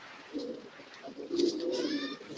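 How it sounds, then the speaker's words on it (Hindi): Pigeons coo in soft, low rolling calls close by at dusk under overcast weather in Karachi, a few overlapping phrases with no talk. "इधर इधर कबूतर यहाँ दिखाएं इस तरफ"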